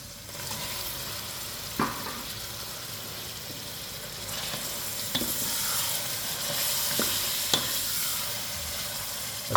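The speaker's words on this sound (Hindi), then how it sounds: "अच्छी तरह टमाटर को मिक्स करेंगे।" Tomatoes stirred into a pan of browned onions with chopped ginger and garlic, a loud steady sizzle with scraping spoon strokes and a few sharp clinks against the pot.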